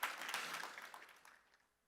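Applause from an audience at an AI engineering conference keynote, a brief burst of many hands clapping that fades out quickly at a moderate distance.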